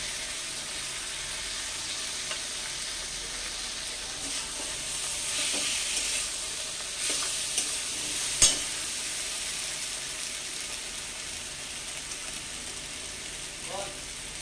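Ginger garlic paste fries with ground coriander, cumin, turmeric and chilli powder in a pan, a steady moderate sizzle under stirring, swelling in the middle, with one sharp metallic clink near the middle.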